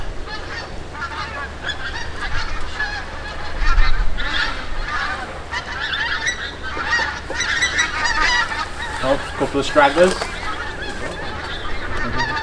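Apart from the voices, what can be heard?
large flock of geese honking overhead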